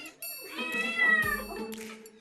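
Cats from a household of four siblings meowing in protest at mealtime, a drawn-out whiny meow close by, with faint overlapping cat cries and a brief thump.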